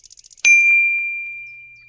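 Phone message notification tone: a quick run of six soft tick-like pips leads into one bright, loud ding that rings on and slowly fades away, heard alone in a quiet room.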